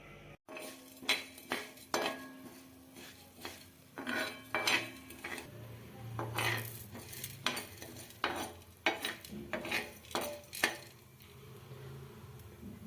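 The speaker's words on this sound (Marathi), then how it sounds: "हा सर्व मसाला मी तव्यावर भाजून घेते" A metal spoon scrapes and clinks against a hot griddle at an uneven pace, dry-roasting spices, chana dal and coconut with light rustling between the knocks, close up.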